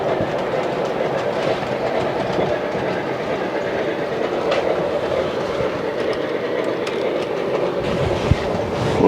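A model train running on the track of a home layout, steady rolling rumble with rhythmic clickety-clack from the wheels over rail joints, close and continuous throughout.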